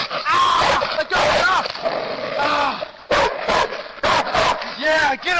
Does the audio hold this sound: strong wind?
no